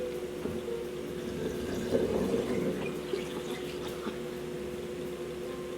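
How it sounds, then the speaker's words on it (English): Water pours steadily into a yeast starter container for winemaking, a continuous splashing gurgle that swells and then settles into a softer fill, with no voices. "now that everything's in there, we're gonna pour the water in."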